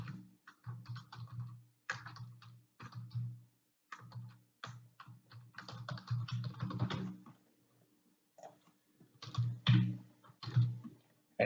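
Computer keyboard typing as login credentials are entered, bursts of quick keystrokes broken by short pauses, close and fairly steady, with no voices.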